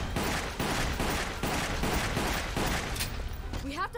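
Rapid gunfire from the Resident Evil: Umbrella Chronicles video game rattles in steady repeated bursts across the whole stretch, loud and dense, with a brief rising electronic whine near the end.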